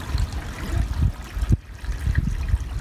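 Large volume of foul-smelling water draining out of a damaged sailboat, a continuous close splashing trickle and gush with uneven surges.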